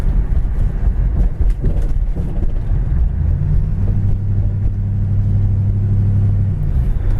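A 1966 Ford Fairlane cruising down the road, its steady low engine drone and road rumble filling the cabin continuously with no talk.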